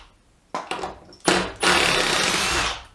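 A Milwaukee hydraulic impact driver backs screws out in a few short bursts, then holds a loud, sustained whirring run with a high whine, close and alone.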